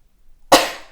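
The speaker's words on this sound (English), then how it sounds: "Hang on, I'm going to sneeze" A single sharp sneeze from a woman with a cold bursts out close and loud after half a second of silence, then tails off quickly.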